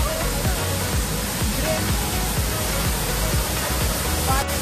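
Strong waterfall in a rain-soaked jungle, roaring as a loud, steady broadband rush of falling water close by, unbroken throughout.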